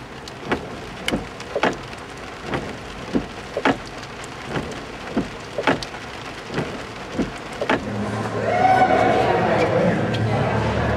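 Rain falls on an outdoor protest in Fort Collins. Heavy, steady patter runs throughout with sharp drops or taps striking a surface at irregular intervals, and a crowd murmur and voices rise near the end.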